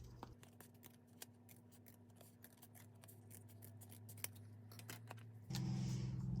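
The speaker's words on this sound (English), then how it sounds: "So I'm going to very carefully trim this a little narrower." Paper being carefully trimmed narrower with scissors, a string of crisp, faint snips and clicks spread across several seconds over a low steady hum, with no talking.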